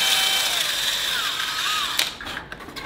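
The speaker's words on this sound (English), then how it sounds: "I'm actually just gonna take a drill bit and make these bigger real fast." A power drill with a bit enlarges alignment peg holes on a 3D-printed Mandalorian helmet, a steady close whirring that runs for about two seconds before cutting off into brief clicks and handling noise.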